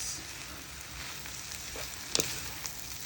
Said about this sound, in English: Continue stir frying everything and turning.